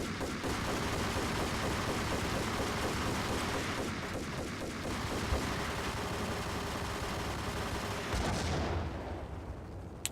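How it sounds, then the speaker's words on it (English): Dense, continuous gunfire and explosions from the shooter video game Max Payne roar loudly for about eight seconds, with a rattling burst of rapid shots midway, then cut off abruptly near the end. "Where am I even getting shot from?"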